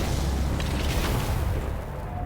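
A heavy explosion in Age of Sigmar: Storm Ground bursts out as a loud, rumbling boom that fills the sound and then slowly fades, with no talking.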